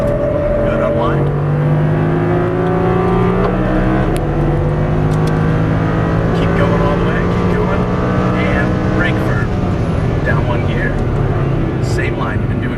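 Audi R8 with a V10 engine on a race track, its loud engine droning steadily close by with harmonics rising and shifting through gear changes, under an instructor's continuous coaching speech.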